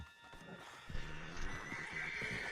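A horse in Red Dead Redemption 2 whinnies in a drawn-out neigh over hoof clip-clops and outdoor game ambience, moderately close.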